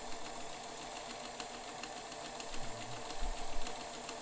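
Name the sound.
Bernina 530 Record sewing machine stitching ornamental pattern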